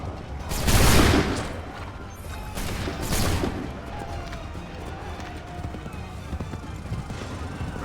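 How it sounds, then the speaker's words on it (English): Musket volleys crack out in an Assassin's Creed III battle, with two loud ragged bursts in the first few seconds followed by a rumbling din of running feet, hooves and shouting voices. "Open fire."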